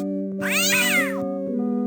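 A cartoon cat in the MS-DOS adventure game Day of the Tentacle lets out a single drawn-out meow, loud and close over a steady droning game tone.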